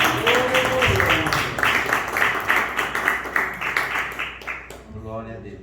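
Church congregation clapping in rhythm during a sermon, loud and fairly close, with a voice over it, the clapping tapering off near the end.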